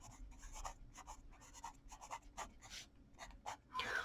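Faint, close scratchy strokes of writing on a board during a maths lesson, short tapping and scraping marks in an uneven rhythm with small pauses between them.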